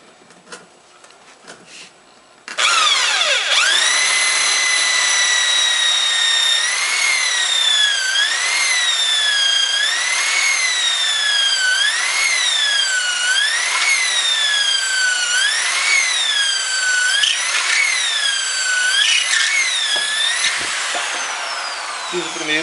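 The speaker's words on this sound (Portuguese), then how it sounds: "Então vamos à primeira furação." A power drill bores holes into a tire planter for growing pitaya, its high whine starting abruptly and running continuously for about twenty seconds, rising and dipping in pitch as the bit bites and eases, loud and close.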